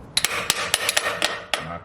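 A hammer knocks at a part on a Harley-Davidson Road Glide Special during teardown, giving about nine sharp metallic strikes in an uneven rhythm. The blows are close, with no talking.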